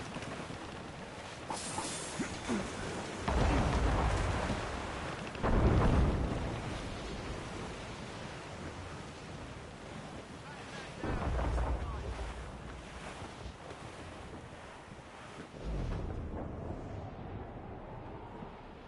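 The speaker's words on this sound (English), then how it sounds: "That wind's trouble." Stormy wind and crashing ocean waves in Assassin's Creed Rogue, a steady roar of gusts and surf with several heavy swells of water rising and falling, faint voices occasionally under it.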